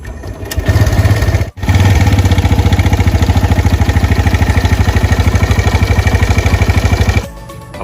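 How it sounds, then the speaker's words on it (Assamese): A TVS Raider 125 motorcycle engine with an abnormal noise runs steadily up close, its loud, rhythmic pulsing broken by a brief dropout early on before it cuts off near the end. "এতিয়া আমি চাম ইঞ্জিনটো কেনেকুৱা নইজ মাৰি আছে"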